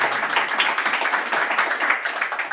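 An audience claps to welcome two young performers at a live poetry and music show, a steady close patter of many hands with no talk.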